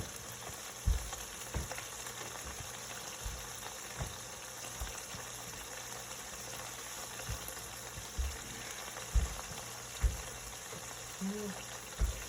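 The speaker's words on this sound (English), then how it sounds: "See here how it's starting to bubble now instead of just sizzle? That's the bacon." Bacon fries in a pan for burgers, a steady close sizzle and bubbling broken by occasional sharp pops and spatters.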